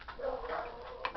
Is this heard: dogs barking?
yes